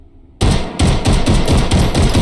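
A select-fire Luger pistol in the VR game H3VR fires a loud, close full-auto burst of rapid, evenly spaced shots after a brief quiet start.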